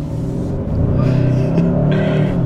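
A 2022 Hyundai Sonata N-Line accelerates hard with traction control on, its engine rumbling loud and close with a rising, slightly uneven roar as the tires fight for grip.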